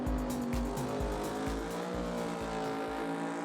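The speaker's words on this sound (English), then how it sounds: "the first of these is John Webster's new twin-turbo Mustang" A twin-turbo Ford Mustang Pro Mod drag car at a British drag racing championship round roars at close range, its loud engine stuttering in quick, regular pulses with a harsh edge throughout.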